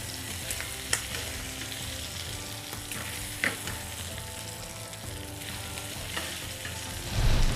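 Calamari fries briefly in a pan for a seafood pasta sauce: a steady close sizzle with occasional stirring clicks and scrapes, no voices.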